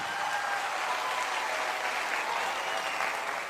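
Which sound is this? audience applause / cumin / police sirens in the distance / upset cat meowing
audience applause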